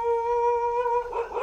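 A dog lets out a single sustained, steady howl, then a short noisy yelp or bark follows, close and fairly loud with no speech.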